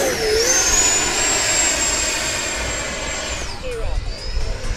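An FMS Rafale RC model jet comes in to land, its loud, steady turbine whine holding a high pitch and then winding down near the end, with a faint voice underneath.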